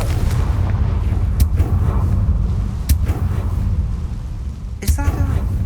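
Confringo fire-spell blasts in the Hogwarts Legacy video game hit as several sharp bursts at irregular gaps over a heavy, constant low rumble.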